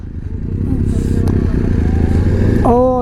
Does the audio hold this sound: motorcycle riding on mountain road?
yes